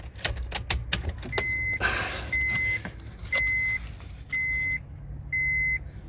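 A 2011 Honda Fit Sport being switched on without the engine starting, with a series of steady electronic chimes repeating about once a second, alongside a brief whoosh of a fan and a few light clicks and taps up close.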